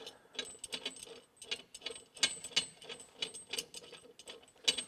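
Cross bolts with serrated flange nuts being worked loose from a kingpin adapter, giving rapid metallic ratcheting clicks and clinks in uneven bursts, close and moderately loud, with no voices.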